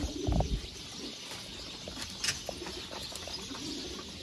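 Ferozpuri pigeons coo softly and flap their wings in a sharp burst at the start, followed by quieter rustles and faint calls close by.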